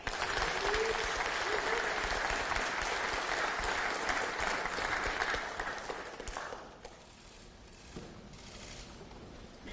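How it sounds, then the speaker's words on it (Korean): Audience applause welcoming a presidential candidate arriving at a party lawmakers' meeting, dense and sustained clapping filling the room for about six seconds before thinning out into scattered claps and quiet room noise. "환영과 격려의 박수 부탁드립니다."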